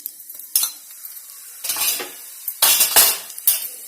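Mustard seeds spluttering in hot oil in a pan while preparing a grape pickle, sharp crackling bursts that come in irregular clusters with short quiet gaps, close and fairly loud, with no voices.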